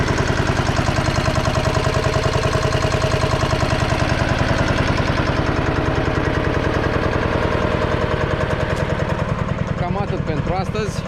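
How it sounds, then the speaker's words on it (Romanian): An Antonio Carraro Tigre 4x4 tractor engine runs loud and close with a fast, even throb that holds steady throughout, and a voice is partly heard over it. "Foarte frumos merge motorul."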